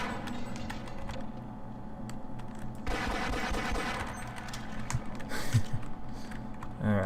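Rapid bursts of gunfire from shooting headcrabs in the Half-Life video game, loud and close, with fast repeated shots and some clicking under a game soundscape.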